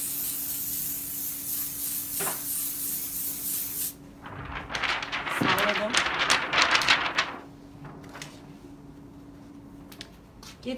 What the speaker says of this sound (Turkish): Önce arkadan spreyimi sıkıyorum.